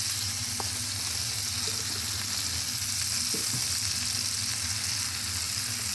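Butter sizzles in a pan as homemade cow ghee is cooked village style, a constant close frying hiss with a few faint bubbling pops and low clatter, no speech.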